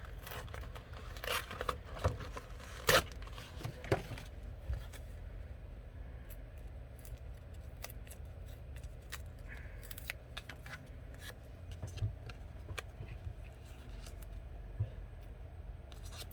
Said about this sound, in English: I do have this sparkly orange paper that I think we could tear a piece of and